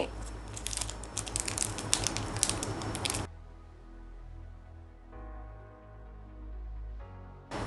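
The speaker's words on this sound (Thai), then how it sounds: "นี่เราก็ฉีกแผ่นสตริปแบบนี้" A Sinocare blood glucose test strip packet is torn open up close, a dense burst of crinkly ripping for about three seconds, then quieter handling noise and low background hum.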